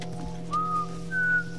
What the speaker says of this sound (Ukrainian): Не свисти, грошей не буде.